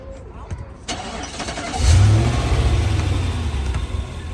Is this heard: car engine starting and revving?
yes